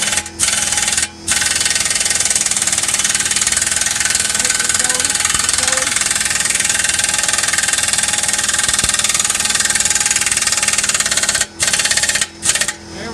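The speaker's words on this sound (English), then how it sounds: "I'm kind of yelling because the compressor is on." An air compressor runs steadily and loud in a garage during exhaust work on a Honda Element, a continuous mechanical drone with a few brief dropouts near the start and end.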